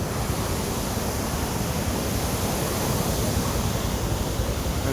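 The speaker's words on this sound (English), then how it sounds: "Still the river is growling." A rain-swollen river in flood roars in Manali after massive rainfall, a steady, dense broadband rush of churning water that stays loud and unbroken throughout.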